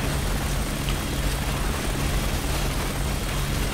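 Helicopter rotor drone from the Resident Evil 6 video game, a steady broadband whir with a low hum, continuous and fairly loud throughout with no talking.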